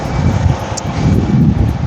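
Steady, roaring gusts of strong wind buffeting the microphone behind the Reichstag building in Berlin, a low rumbling rush that swells and eases without pause.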